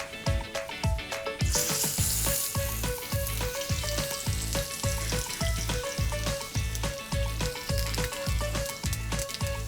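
Watermelon steak fries in hot oil in a pan, giving a loud, close, crackling sizzle with rapid, regular pops throughout and no talking.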